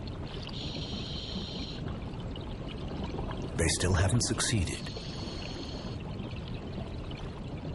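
Water rushing through the Black Danube, an underground river in a cave system, heard as a continuous broad roar with a brief louder surge midway, while a narrator speaks over it.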